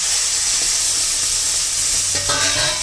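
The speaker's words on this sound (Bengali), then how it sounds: "একটু ভালো করে কষিয়ে নেব" Taro paste and green chilli stir-fried in a hot pan, a loud continuous sizzle with brisk stirring scrapes, close up, with no talking.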